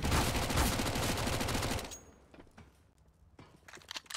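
Mac-10 submachine gun fire in CS:GO rattles in a loud rapid burst for about two seconds, then cuts off and leaves a few scattered sharp shots and clicks.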